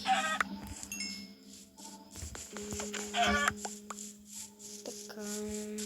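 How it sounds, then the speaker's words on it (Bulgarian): Chickens in Minecraft cluck in short, repeated bursts over a soft ambient background, with several clucks spread through the scene at moderate distance. "Кокошки."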